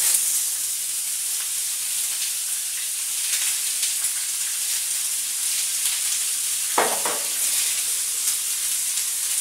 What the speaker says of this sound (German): deshalb werde ich das ganze Gemüse, zack, alles auf einmal braten